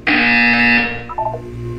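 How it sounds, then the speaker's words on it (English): A harsh, loud electronic buzzer from the Portal 2 video game sounds for under a second, then cuts off to a short electronic chirp and a low hum. "You will hear a buzzer."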